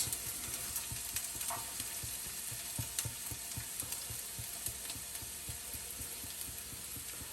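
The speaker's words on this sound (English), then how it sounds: "ਸਭ ਤੋਂ ਪਹਿਲਾਂ ਆਪਾਂ onion ਪਾ ਦੇਾਂਗੇ।" Onions fry in olive oil with a faint, steady sizzle, broken by rhythmic clicking scrapes of stirring close by; no one speaks.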